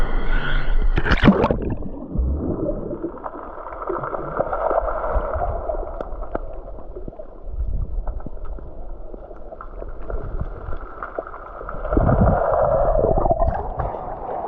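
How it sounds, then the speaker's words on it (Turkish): Waves on a pebble beach at Kabak Bay roll in and drag the stones, a loud, close, continuous churning with gurgling water and a dense clatter of pebbles that rises and falls with each surge. "dalgaların çakıllara, çakılları ilerletme sesine bakın"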